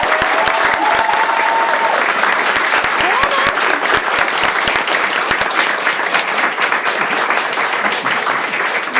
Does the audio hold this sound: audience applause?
yes